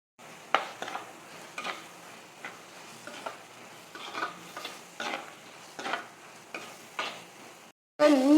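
Fish curry masala with shallots, garlic, green chillies and curry leaves frying in oil, a low sizzle under repeated rhythmic spatula stirs and scrapes against the pan, close and quiet, ending in a brief louder burst.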